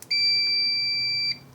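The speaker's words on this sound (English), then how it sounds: "beeps when those have continuity on the test leads" A multimeter in continuity mode gives one sustained, steady electronic beep of a bit over a second when its test leads touch, loud and clean with a sharp start and stop.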